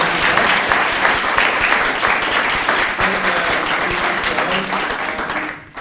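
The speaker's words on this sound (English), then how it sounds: "give each other an applause" Audience applause at the close of a venture capital discussion panel, a steady, dense wash of clapping that holds evenly for several seconds before tapering off at the end.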